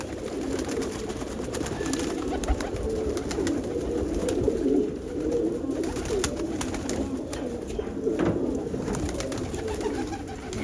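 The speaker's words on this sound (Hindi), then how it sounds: "ये देखिए, एक से एक नायाब और बेहतरीन कबूतर है" Many pigeons coo continuously in low, overlapping burbles, with occasional wing flaps and clatter nearby.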